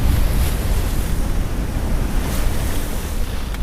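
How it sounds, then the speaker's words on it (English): Strong wind and rushing waves surround a sailboat at sea near sunset after a day of squalls. The dense, loud roar is steady and continuous, with gusts buffeting the microphone. "Wind's just starting to back off a little bit near sunset."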